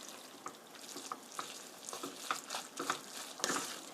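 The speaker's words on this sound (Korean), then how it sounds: "이렇게 해서 1분간만 볶아주면 돼요" Spicy spaghetti stir-fried in a pan at a campsite, with soft continuous sizzling and a run of light scraping and tossing clicks from stirring, fairly close and moderately quiet.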